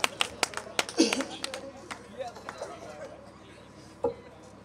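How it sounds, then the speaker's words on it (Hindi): A few scattered, sharp claps from an audience at a Hindi comedy stage show in Ayodhya, thinning out quickly into murmuring chatter and nearby talk, with one last isolated clap. "जरा एक बार जोरदार तालियां बजाइए"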